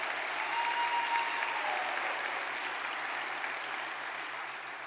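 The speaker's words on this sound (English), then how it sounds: "Give yourselves a round of applause for being here on this very special and monumental night." A large audience at the James L. Knight Center applauds at the opening of the Silver Knight Awards ceremony. The hall-filling clapping is steady and slightly distant over a faint low hum, and eases off a little toward the end.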